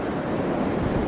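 Wind blows steadily across the shore at Half Moon Bay by open water, a continuous broad rushing roar with no pauses and no voices.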